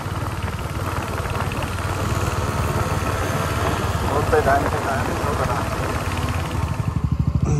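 A scooter engine hums under continuous talk on a road in Sikkim, its note holding steady and then pulsing as it pulls away near the end.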